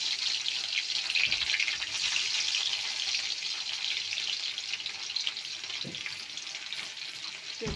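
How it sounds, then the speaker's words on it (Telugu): Garlic frying in hot oil in a pan, a steady soft sizzle throughout with a few faint clinks, no talking. "ఆ వెల్లుల్లి అయితే ఇలా ఆయిల్లో ఫ్రై చేసుకుంటూ ఉన్నానండి."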